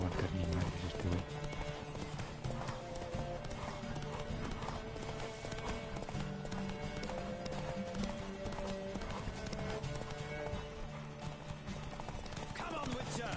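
Horse hooves galloping in a video game, a quick steady clip-clop rhythm running throughout under game music and other effects, with someone talking over it.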